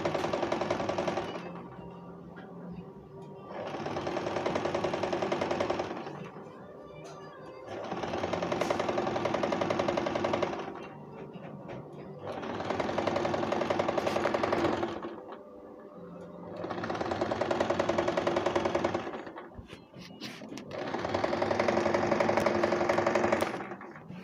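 A sewing machine stitches panel skirt fabric in six rhythmic bursts of rapid mechanical whirring, each lasting a few seconds and separated by short pauses, loud and close.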